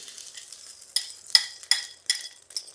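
An egg dropped into hot oil in a preheated wok for street-style Indo-Chinese egg noodles, giving a steady bright sizzle with several sharp crackling bursts and faint utensil clinks, close and fairly quiet, with no talking.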